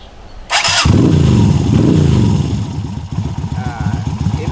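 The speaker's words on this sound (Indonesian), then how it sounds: "ini untuk suara dari motor Kaisar Ruby 250 cc yang udah di custom bentuknya Jetstel" A custom Japstyle Kaisar Ruby 250cc motorcycle starts up with a short whirring crank, then its engine catches and roars loudly nearby before settling into a rhythmic, thumping idle.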